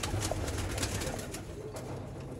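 Nile tail breeder pigeons cooing softly in a loft, a low repeated murmuring coo close by with faint background rustle, no talking.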